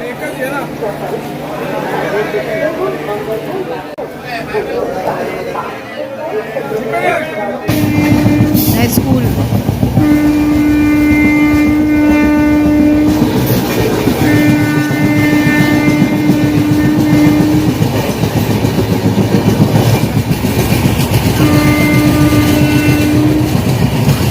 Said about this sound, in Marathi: बऱ्यापैकी फास्ट झाली आहे ट्रेन